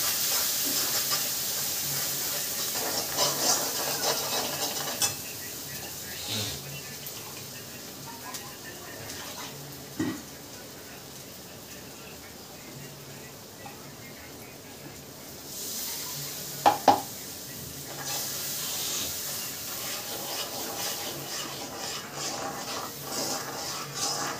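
Ground spice paste fries in oil for a potato bhaji, a steady soft sizzling hiss with occasional louder spits and a few stirring knocks, while a voice speaks quietly at times.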